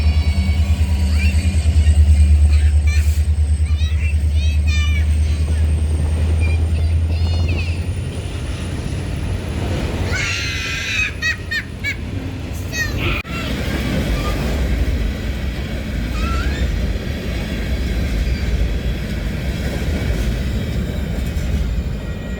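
Two Union Pacific SD70M diesel locomotives lead a short eastbound train past the trackside near Rochelle, Illinois, with a loud low engine rumble at first that eases into ongoing wheel and rail noise, plus a brief horn-like tone.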